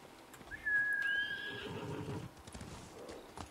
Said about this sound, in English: Yeah, come and hang out with the horses.